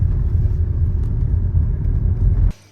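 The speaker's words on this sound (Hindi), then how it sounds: "ये देखो एक गाड़ी पास होते हुए" A car passes on a road at night in Bangalore, a loud, close, steady engine rumble that swells slightly and then cuts off abruptly near the end.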